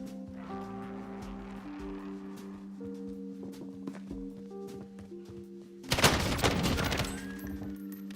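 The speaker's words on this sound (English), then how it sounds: "I hear gunshots to my left." Distant gunshots crackle in a burst of rapid fire over a steady game music drone in Call of Duty: Warzone, arriving suddenly after a calm stretch.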